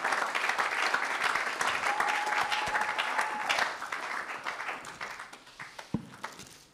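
Congregation applauding during a Sunday church service, a dense wash of clapping that holds steady and then thins out toward the end, with a brief sustained tone partway through.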